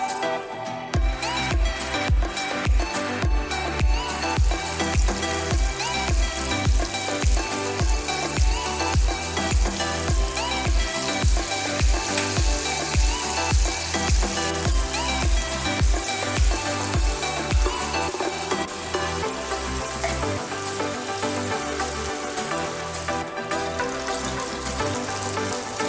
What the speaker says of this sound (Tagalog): ipirito natin ito for 30 to 40 minutes